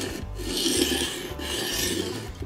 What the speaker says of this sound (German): Ich schleife das jetzt soweit mal weiter mit dem Teil.